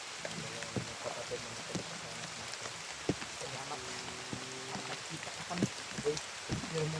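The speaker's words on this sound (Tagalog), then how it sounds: "Malakas ang ulan mga tol." Steady heavy rain hissing across the whole clip, with scattered sharp drip taps and low murmuring voices underneath.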